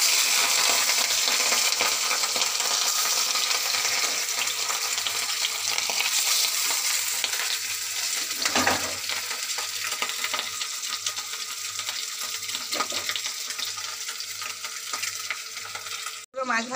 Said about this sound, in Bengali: মাছগুলো ভাজবো, একে একে করে মাছগুলো ভেজে নেব